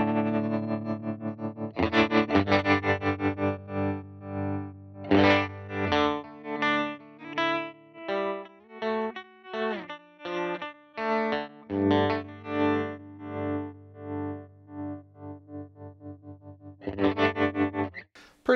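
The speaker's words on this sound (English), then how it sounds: "So now we'll hear that tremolo-y vibrato effect" An electric guitar runs through a UAFX Ruby amp pedal with a tremolo-like vibrato effect, its chords and single notes pulsing and wavering in steady throbs, moderately loud with no voices.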